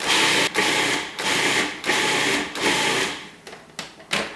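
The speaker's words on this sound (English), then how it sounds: "So you're gonna blend that till it's smooth, like a puree." Blender pureeing a raw broccoli pie filling, running in several loud whirring bursts separated by brief pauses, close and with no talking.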